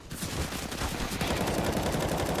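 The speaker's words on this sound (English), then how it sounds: "Exchange from the pistols." Pistol gunfire in Counter-Strike, a rapid close exchange of sharp shots fired in quick succession over a dense background.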